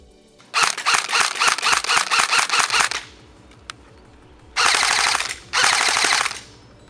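A G&G GR15 Raider airsoft rifle fires close by: a long rapid burst of about a dozen cracking shots, a pause, then two shorter buzzing bursts.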